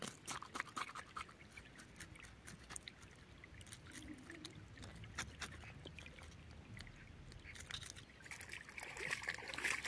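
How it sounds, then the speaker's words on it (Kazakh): Water trickles and burbles along a river in autumn countryside, a soft, steady flow heard close by with no voices over it. "судың сылдырап аққан дауысы"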